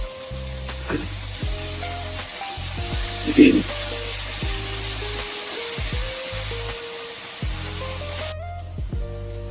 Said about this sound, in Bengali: এবারে কাঁচা লঙ্কা, রসুন আর আদা পেস্ট 2 চামচ। এবারে একটু কষিয়ে নিতে হবে।